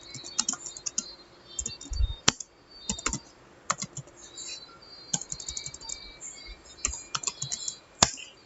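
Steady typing on a computer keyboard while coding in Python, with irregular bursts of close, crisp key clicks and a few louder keystrokes, no voices.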